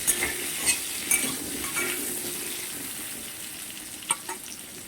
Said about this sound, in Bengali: আলু ভাজতে ভাজতে আমি হচ্ছে যে পেঁয়াজটাও দিয়ে দিচ্ছি